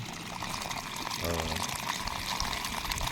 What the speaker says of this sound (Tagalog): Ganda naman ang flow ng tubig.